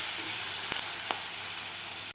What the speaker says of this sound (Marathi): तर आपण हे 1 मिनिटभर परतून घेऊया।